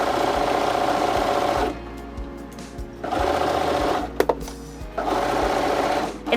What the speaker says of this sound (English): Remember only to sew through the front ply of the fabric so we don't sew through the back.